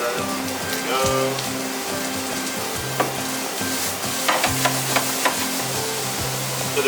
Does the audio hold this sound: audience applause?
no